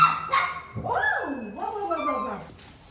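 Young puppy barking and yipping close by indoors in a home in China, a few sharp barks followed by whiny, sliding yelps and whimpers.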